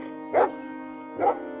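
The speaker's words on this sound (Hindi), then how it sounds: "कुत्ते धीरे धीरे पास आए और खाना खाने लगे।" Two short barks from a dog in an animated story ring out close and clear, evenly spaced under a steady humming background, with no speech.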